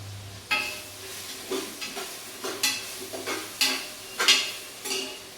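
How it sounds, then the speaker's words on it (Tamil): Onions and tomatoes sautéing in a pan for a vegetable biryani, with repeated stirring scrapes and soft sizzling in irregular strokes, close and moderate in level, with no talk. "இப்போ வந்து வெங்காயம் தக்காளி வதங்கிடுச்சு"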